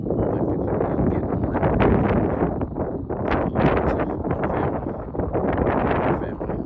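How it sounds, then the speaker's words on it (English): Wind buffeting a microphone outdoors near geese, a loud, constant rumbling roar with gusty swells throughout. "I'm trying to block as much of that wind as I can."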